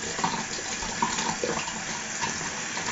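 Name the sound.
tap water running to wet a shaving brush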